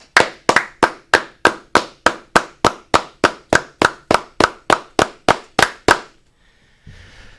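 Twenty sharp, evenly spaced hand claps in a steady rhythm, loud and close, followed by a brief faint rustle.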